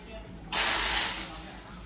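Spices such as cumin drop into hot oil for tempering and burst into a sudden loud sizzling hiss that slowly fades over the next second.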